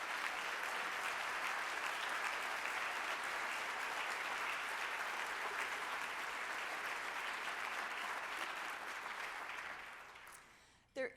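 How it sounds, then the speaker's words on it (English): A luncheon crowd at an ACLU of Michigan justice event gives sustained applause for the ACLU staff, a dense, even roar of clapping that holds steady and fades out near the end. "Give them some applause."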